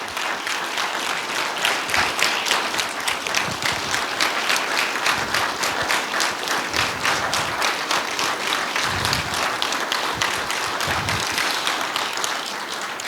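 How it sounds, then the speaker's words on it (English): An audience applauds at a citizens' academy graduation, with sustained, dense clapping from many people that runs steadily for over ten seconds at a fairly loud level. "So I'd just like for you to give Deshae Hearn a round of applause for all."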